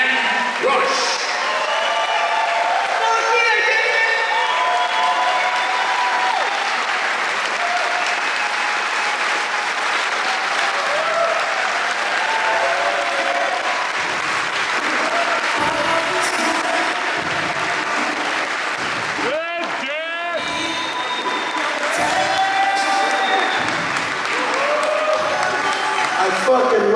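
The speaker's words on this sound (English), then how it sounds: "Please give him the biggest round of applause you could muster" A crowd gives sustained, dense applause for Dan Rush at an award event, with scattered whoops and shouts rising out of the clapping throughout.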